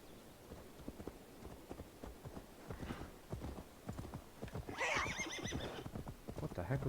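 A horse in Assassin's Creed Valhalla trots with rhythmic clip-clop hoofbeats, then lets out a loud, close whinnying neigh partway through, with the hooves continuing under it.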